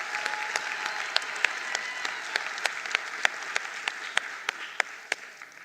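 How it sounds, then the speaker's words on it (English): Audience at a 2024 ministerial announcement of NSC examination results applauding an award recipient, steady dense clapping from a crowd in a large hall, a few sharper claps standing out, moderately loud throughout. "Let's give him a round of applause."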